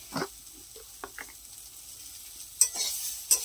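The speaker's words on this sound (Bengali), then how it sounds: "পেঁয়াজটাও ভাজা ভাজা হয়ে এসছে বন্ধুরা, দেখো শাকটাও ভাজা ভাজা হয়ে এসছে।" Soft sizzling of onions and water spinach frying in a pan, with a few scraping stirs and brief bursts of crackle separated by quiet moments.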